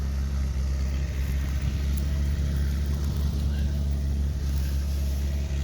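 An International Harvester 1026 hydrostatic-drive tractor runs at a field demonstration day, its engine a steady low rumble at a constant pace, with faint background sounds around it.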